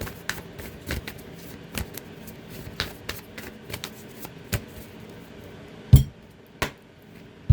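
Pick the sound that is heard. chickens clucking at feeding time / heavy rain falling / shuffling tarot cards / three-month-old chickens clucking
shuffling tarot cards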